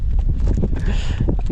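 A horse being ridden off-road at Mahabaleshwar, hooves clip-clopping in a steady close rhythm with faint voices and outdoor noise underneath.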